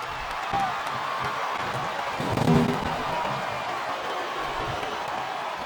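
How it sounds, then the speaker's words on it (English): Capacity arena crowd roaring at a women's wrestling match in a video game, a steady wash of cheering with a brief swell, moderately loud and distant. "This capacity crowd is making their opinions known tonight."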